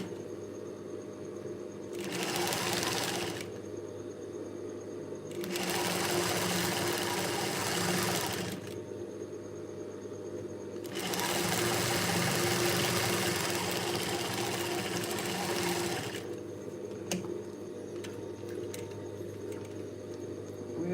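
A sewing machine runs in three long bursts while stitching the side seams of a top, its steady motor hum and rapid needle chatter close and even, separated by short pauses where only a faint background drone remains.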